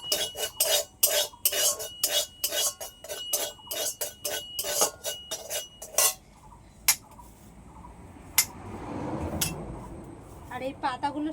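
Salt is lightly dry-roasted in a pan while a spoon stirs it, giving rapid rhythmic scraping and clinking for several seconds, followed by a few isolated clinks and someone talking.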